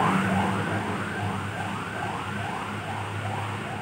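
An ambulance serving as a hearse from a hospital sounds its siren in a loud, repeating wail, each rising and falling sweep following the last at a steady pace over a low engine and traffic rumble.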